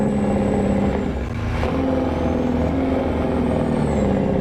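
Loud, deep rumbling of a heavy truck engine with a throaty, pulsing Jake brake chatter, sustained and close throughout.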